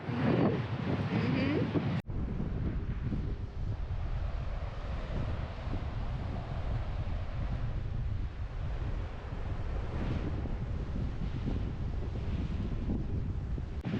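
Ocean surf rolls against the cliffs at the Twelve Apostles, a continuous broad roar of waves heavily buffeted by wind noise on the microphone, with a brief burst of louder rushing at the very start.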